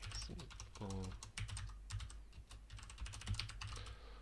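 Someone types on a computer keyboard while writing C code for a console rock-paper-scissors game, producing quick, close clicking keystrokes in uneven bursts, with a brief bit of speech near the start.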